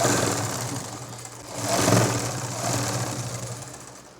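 A home sewing machine stitches the side seam of a nightie with a steady mechanical whir that swells louder midway and then eases back, with no talking.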